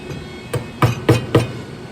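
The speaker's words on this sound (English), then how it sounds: "Do that 1mm, chop down, and then I've just got that final chop" A wood chisel chops out a hand-cut recess for a flush bolt: four sharp, close knocks, one lighter then three heavier, in a quick, even rhythm with no talking.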